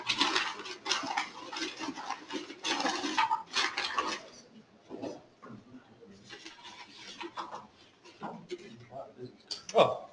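Raffle entries, including business cards, being stirred and shuffled in a container before a conference prize draw, rustling and scraping in bursts while someone talks over it.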